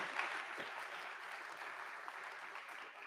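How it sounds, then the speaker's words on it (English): An audience at a nursing BSN pinning ceremony applauds the graduates, a steady wash of many hands clapping at a moderate distance, sustained and fairly faint. "A big round of applause for all of them."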